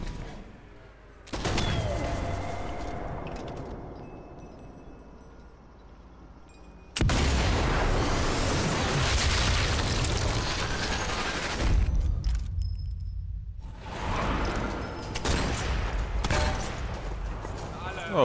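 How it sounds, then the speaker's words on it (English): Enemy gunfire in the video game Sniper Elite 4, loud bursts of shots and crackling impacts that come in waves and stop and start, with someone talking over them. "Oh, who's shooting at me?"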